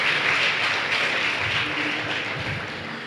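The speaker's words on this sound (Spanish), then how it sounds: "Un aplauso para Mario." Audience applause fills a church gathering, dense steady clapping at close range that continues for several seconds and slowly eases off, with no voices over it.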